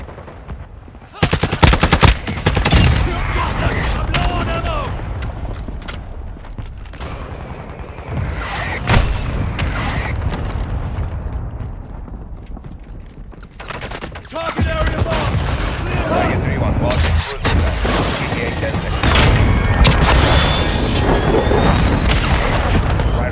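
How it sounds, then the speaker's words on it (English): Mortar strike in Call of Duty MW2 multiplayer: a string of loud explosions and booms mixed with bursts of rapid gunfire, continuous and close, with a lull midway before the barrage picks up again. "Hostile mortar strike incoming."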